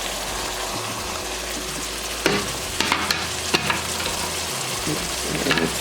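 Onions fry with ground meat for a lasagna meat sauce, giving a constant close sizzle over a low hum, with scattered small clicks and scrapes from stirring.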